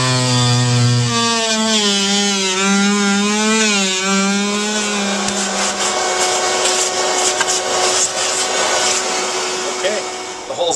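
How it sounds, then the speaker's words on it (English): An oscillating saw cuts through boat fiberglass with a loud, steady buzzing whine that shifts in pitch as the blade bites, running the whole time close by. "this oscillating saw, you can actually just drop right in along the line and make a cut"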